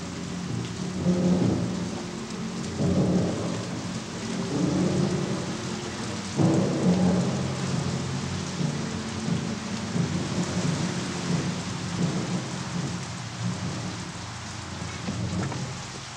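Heavy rain pours steadily while deep rolls of thunder rumble through the downpour, with no voices.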